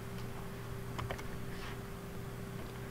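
Quiet typing on a computer keyboard during a coding tutorial, a few soft scattered key taps over a constant low hum.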